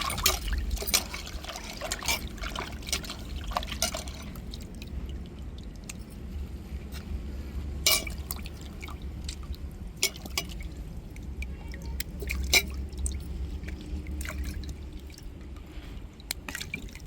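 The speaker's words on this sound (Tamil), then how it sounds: "இப்போ தண்ணியை ஊற்றி அலசிக்கிடுவோம்." Water is poured over crab to rinse it for a crab curry, making a soft, steady trickle and splash close by, broken by sharper drips and clatters, with no voices.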